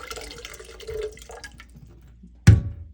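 Water from a well-water filter housing splashes into a sink in one brief, loud dump, following soft handling clatter and rustling.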